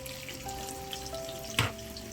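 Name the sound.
onions and green chillies frying in oil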